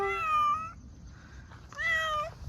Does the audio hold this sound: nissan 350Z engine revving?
no